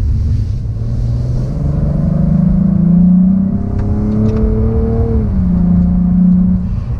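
A 2017 Cadillac ATS-V pulls away with a steady, loud engine note that rises through the gears, droning continuously with no voices over it.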